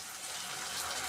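Soy sauce pours into prawn noodles in a steady, close liquid stream, a continuous wet trickle lasting just over a second with no voices.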